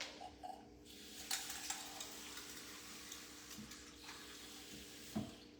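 Ice-cold water is poured into a bowl for chicken and dumpling dough with flour. The pour is a faint, steady trickle, close by in a quiet kitchen, with a few soft clinks of ice against the bowl.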